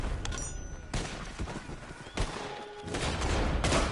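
Repeated gunfire in the Red Dead Online video game: a dense run of shots and bursts spread across the whole stretch, some loud and close, others further off, with horses among the mayhem and no speech.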